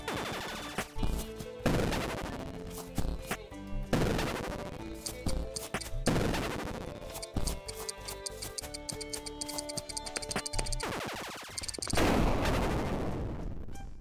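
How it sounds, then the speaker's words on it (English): Explosions from the video game There is No Game: Wrong Dimension erupt as a series of loud, sharp blasts spread over about fourteen seconds, with a rapid mechanical ticking and rattling between the bursts and no talking. "That was quite an explosion."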